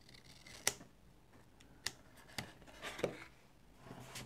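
Scissors cutting through card for a floating-panel greeting card, giving a few sharp, separate snips spaced irregularly over a quiet room background, with no talking.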